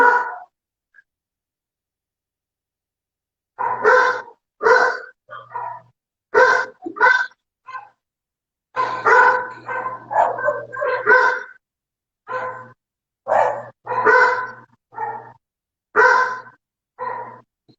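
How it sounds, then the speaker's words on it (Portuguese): Several dogs bark loudly and repeatedly in bursts at an opossum, close by, with short pauses between rapid volleys of barks and yips. "Tô com meus cachorros lá embaixo fazendo um auê por causa de gambá"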